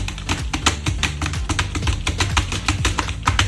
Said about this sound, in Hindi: यह है मेम्ब्रेन की आवाज